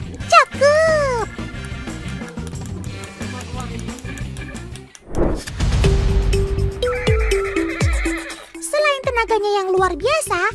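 A horse used for pulling an andong carriage neighs several times in loud, close whinnies, with people talking and other noises between the calls.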